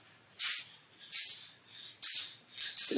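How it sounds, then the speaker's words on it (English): Four short bursts of aerosol spray hiss in a row, each about a quarter second, close and fairly loud with quiet gaps between. "I can just spray it"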